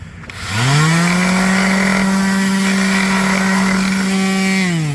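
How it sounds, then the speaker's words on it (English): A power sander strips varnish from teak boards on a C&C 39 cabin sole. Its loud, steady motor whine spins up quickly, holds for about four seconds and starts winding down at the end. "So we got the sander here."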